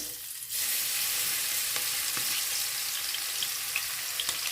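Blended shallot and onion paste (nokos) hits hot oil with a sudden loud sizzle after a quiet half second, then crackles and spits steadily, close by, with a few stirring taps; prepared for a fish and shrimp caldou.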